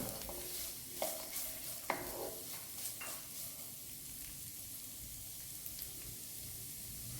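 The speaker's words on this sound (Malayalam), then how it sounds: "ഫ്രൈ ചെയ്ത് വരുമ്പോൾ ചെറുതായി അരിഞ്ഞ ക്യാരറ്റ് ചേർത്ത് നന്നായി ഇളക്കുക" Chopped carrots stir-fried in a pan with curry leaves, ginger and green chilli, giving a steady close sizzle with several sharp scrapes and clinks of the spoon in the first three seconds, then a softer continuous frying hiss.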